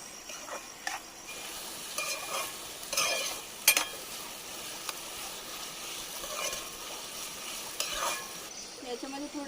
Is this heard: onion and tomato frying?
yes